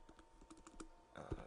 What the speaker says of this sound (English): So we'll just type in